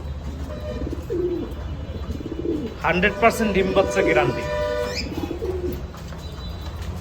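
Fancy pigeons coo in low, repeated murmurs close by, while someone talks over them for much of the time.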